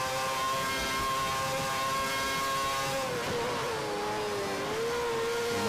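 A Formula 1 car in the F1 2011 racing game powers out of a slow corner, its engine a loud, sustained high whine whose pitch dips briefly and then climbs again as it accelerates.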